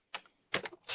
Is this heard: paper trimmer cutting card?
yes